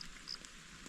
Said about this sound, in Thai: เปียกแล้วได้นี่ฝนห้ำแล้ว